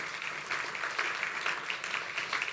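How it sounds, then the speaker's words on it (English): Steady, moderately distant audience applause at a morning business event, an even patter of many hands clapping without talk. "please give everybody a round of applause that I introduced"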